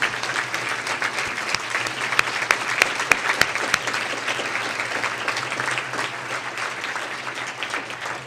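Steady audience applause fills the room at a foundation leadership event, dense continuous clapping with a few sharper nearby claps, moderately loud and sustained throughout with no talk over it.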